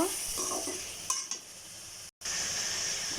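Curry being stirred in a pan, a low steady simmering hiss with a few soft scrapes and clinks of the spoon against the pan, a short silent gap partway through.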